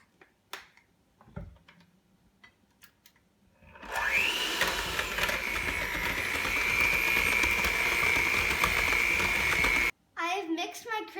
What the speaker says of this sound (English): mix the cream cheese, our butter, and our vanilla extract with an electric mixer until light and fluffy